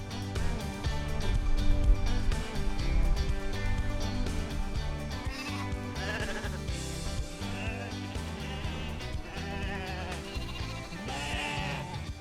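North Ronaldsay sheep bleat repeatedly on a remote Orkney island farm during a summer gathering, several overlapping calls from a flock, fairly close and steady over the whole span, no talk.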